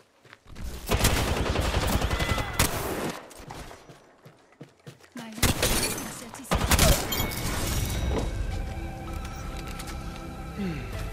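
Rapid gunfire from the Apex Legends video game, with sustained automatic bursts and sharp single shots, loud and close, broken by brief gaps and followed by ringing game effects.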